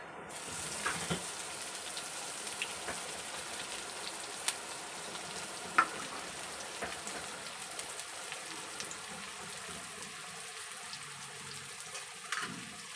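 Onion frying with half a spoon of cumin in a spoonful of oil gives a soft, faint, steady crackle with scattered small pops and no voices.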